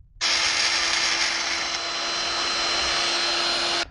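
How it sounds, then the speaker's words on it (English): A bandsaw cuts through a piece of metal for a DIY trailer charging station, producing one loud, continuous high-pitched whine and rasp that holds steady for several seconds and then stops abruptly. "So now I'm hit the bandsaw and cut that thing off."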